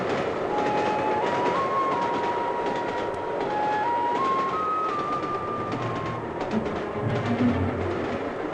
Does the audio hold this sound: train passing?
yes